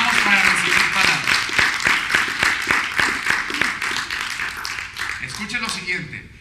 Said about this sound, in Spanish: Y denle un aplauso al Señor.